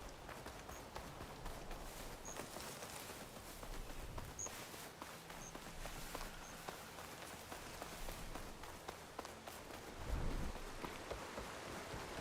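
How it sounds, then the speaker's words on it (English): Rain in the video game Horizon Forbidden West, a steady soft patter with scattered drops and light footstep-like thuds, faint and continuous with no talk. "It's starting to rain."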